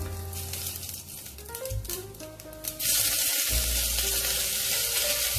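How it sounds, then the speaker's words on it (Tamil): Cinnamon, cloves and fennel seeds tossed into hot oil for tempering a chicken curry, first a lower sputter, then a sudden loud, hissing sizzle that roars on steadily close by. "ஒரு பட்டை 2 கிராம்பு பெருஞ்சீரகம் போட்டு தாளிச்சிக்கிறேன்"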